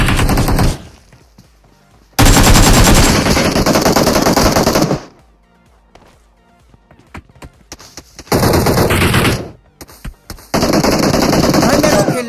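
Gunfire in a shooting video game: loud, sustained bursts of rapid automatic fire separated by quieter gaps holding scattered single shots.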